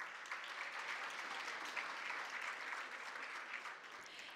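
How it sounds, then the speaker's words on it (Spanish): Steady audience applause at a regional oratory contest final in Los Santos province, following thanks to sponsors; continuous, even clapping from a fairly distant crowd with no talk over it. "para quienes pido un fuerte aplauso"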